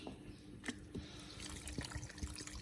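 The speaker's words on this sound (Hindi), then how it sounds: "और इसमें अब डालेंगे थोड़ा सा पानी" Water poured into mutton karahi with baby tomatoes, salt, spices and ginger-garlic paste cooking in a pressure cooker; quiet splashing and trickling with a few soft clinks, close and low.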